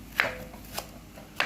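A knife chops lemongrass, three sharp, separate cuts spaced unevenly, close and fairly quiet, with no talking.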